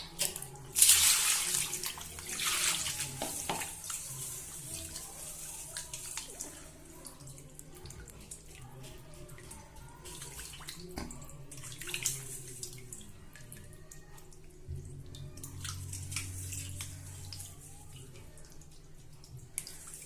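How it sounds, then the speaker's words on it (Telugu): Water splashes and trickles as fish pieces are rinsed by hand in a bowl before cooking, with a louder pour near the start, then softer intermittent sloshing and drips. "ఇప్పుడు దీంట్లో వాటర్ పోసుకొని 2-3 సార్లు వాటర్తో కడిగేసుకోవాలి, క్లీన్ అయిపోతుంది."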